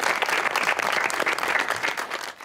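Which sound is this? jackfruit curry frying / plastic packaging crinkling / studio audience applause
studio audience applause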